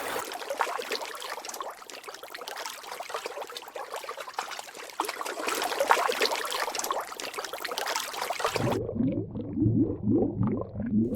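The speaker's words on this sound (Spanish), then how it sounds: "El sonido del agua salpicando resonó mientras los bancos de salmones saltaban sobre las rocas" Salmon leaping up a river over rocks, water splashing and rushing in a steady broadband wash that swells midway, then gives way to a lower, choppier burst of churning splashes near the end.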